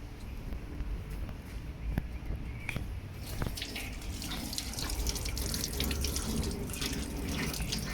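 Tap water runs steadily into a sink while a rudraksha bead is washed, a continuous close splashing wash with a few small knocks and drips throughout.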